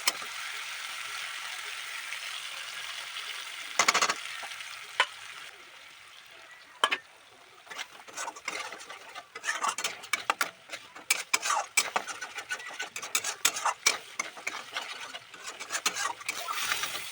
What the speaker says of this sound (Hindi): तो चलिए सबसे पहले इसको भून लेते हैं।